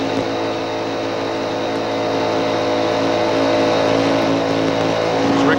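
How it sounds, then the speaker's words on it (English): NASCAR race cars at the 1996 Busch Clash roar past on the track, a dense, steady engine drone that builds slightly in loudness, heard without talk. "Rick Mast going past Terry Labonte up on the outside"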